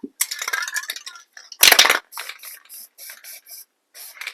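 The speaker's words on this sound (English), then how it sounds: "you can always take your spray paint" Short bursts of spray paint hiss from a can onto artificial rocks, several quick sprays with one longer, louder blast in between, close up.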